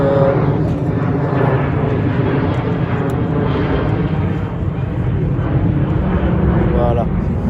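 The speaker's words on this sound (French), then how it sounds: "comme vous l'entendez, il y a beaucoup d'avions, c'est pour ça qu'il y a énormément de bruit sur cette brocante" Airplanes fly low over an outdoor flea market, a loud continuous engine roar filling several seconds while someone talks underneath it.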